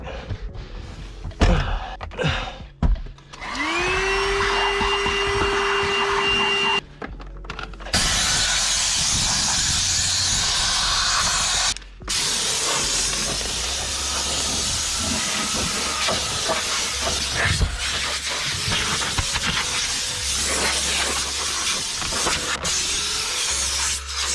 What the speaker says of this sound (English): let's vacuum this real quick